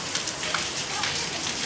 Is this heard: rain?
yes